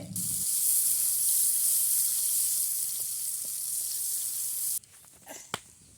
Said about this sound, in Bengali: পেঁয়াজ ভাজা ভাজা করতে হবে।